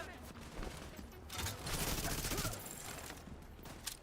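SMG fire in a video game: rapid bursts of submachine-gun shots in quick runs, fairly quiet and somewhat distant, with some talk over the top.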